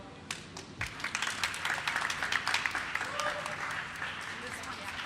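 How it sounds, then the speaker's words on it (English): Scattered clapping from a theatre audience for the actors in a shorts performance at The Swamp, with individual claps standing out at first before filling into moderate applause, while voices talk and cheer underneath. "Can we please give a round of applause for the actors?"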